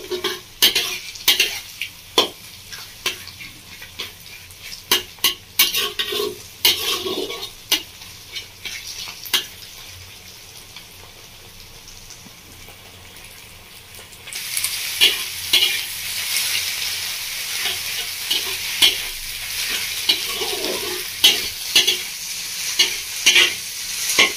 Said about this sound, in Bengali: ডিমটাকে ঠিক এভাবে পটলের সাথে মিশিয়ে দেবো।